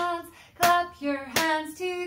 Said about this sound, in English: Clap, clap, clap your hands, clap your hands together.